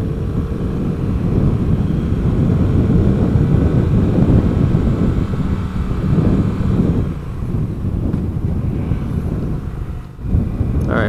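A light aircraft engine drones steadily during a sightseeing flight over Oahu, a loud, continuous low rumble mixed with wind buffeting that briefly dips near the end.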